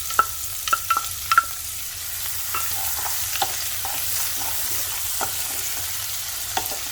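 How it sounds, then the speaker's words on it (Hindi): Chopped onion frying in spiced oil on a high flame for palak aloo sabzi: a soft, even hiss with scattered light clicks of a spoon against the pan, close and alone without speech. "प्याज को हाई फ्लेम पर भून लेंगे, लाइट गोल्डन होने तक।"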